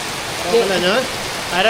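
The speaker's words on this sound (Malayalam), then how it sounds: "അത് കഴിഞ്ഞിട്ടും മഴ മാറാനുള്ള ലക്ഷണമില്ല" Rain pours steadily in a Kerala setting, a dense hiss behind a person speaking briefly in the foreground.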